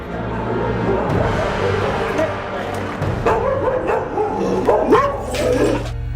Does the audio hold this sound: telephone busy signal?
no